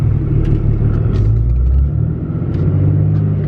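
A car with a South Bend clutch launches hard as the clutch is dumped, a loud low engine rumble that swells and then drops away, close and alone without talk.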